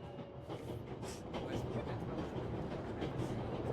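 A steadily rumbling train in the World War I game 11-11: Memories Retold, its wagons rolling with a dense, continuous roar and faint rhythmic clatter that grows slightly louder partway through.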